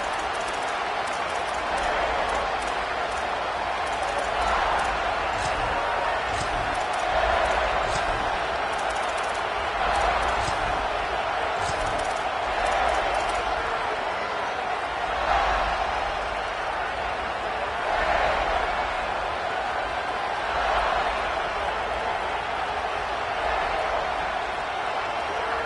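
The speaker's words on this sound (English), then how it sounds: "This crowd, full throat, spreading the eardrums and letting them know it's going to be a long day." A stadium crowd in an NCAA college football video game roars in a steady, broad wash of noise that swells periodically, with a commentator's voice talking over it.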